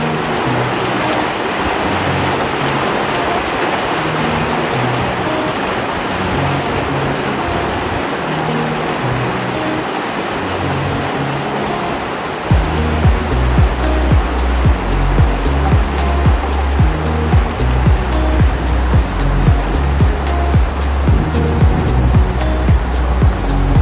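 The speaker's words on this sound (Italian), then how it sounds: "c'è tutta l'acqua che viene giù" Hot spring water pours down steadily at Yellowstone in a broad, loud, continuous roar, with a rhythmic rumbling pulse joining in halfway through; no voices.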